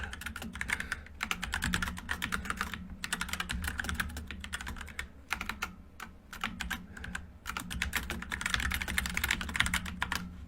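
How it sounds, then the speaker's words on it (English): Close, rapid typing on a computer keyboard clatters in quick bursts with a few brief pauses, over a low background hum and no speech. "I know you guys love the typing too."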